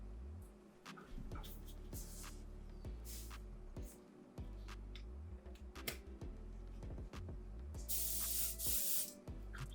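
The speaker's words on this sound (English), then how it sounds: "Couple test sprays." Primer spray can fired in a few short test bursts before priming a metal miniature, loud broadband hissing blasts with a strong burst near the end, set against a steady low hum and faint ticking.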